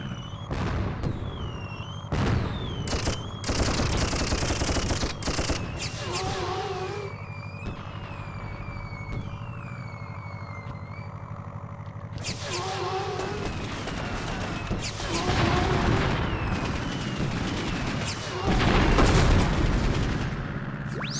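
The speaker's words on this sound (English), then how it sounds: "Getting shot at. Some sort of hit scan weapon there." Rapid weapon fire and explosions from the Dreamcast game Toy Commander, with bursts of shots, booms and whistling effects over a steady engine drone, loud and continuous across the whole stretch.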